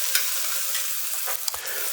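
Diced medium shallots sizzle steadily in a hot pan while a utensil stirs them, giving a continuous close frying hiss with a few soft scraping clicks.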